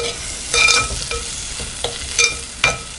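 Vegetables sizzle in hot oil while a utensil stirs and scrapes the pan in occasional strokes, close up with no talking, while cooking Tamil manathakkali keerai kadaiyal (black nightshade greens mash).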